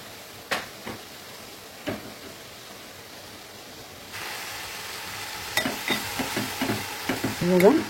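Leafy greens hit a hot pan and fry with a steady sizzle, stirred with scattered scraping knocks that grow busier and louder toward the end; no voices.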